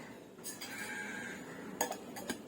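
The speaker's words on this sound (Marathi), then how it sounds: "झाकण लावून ठेवून देते" A few light clinks of a lid being set onto a bowl of saffron shrikhand in a home kitchen, soft and close, with no talk.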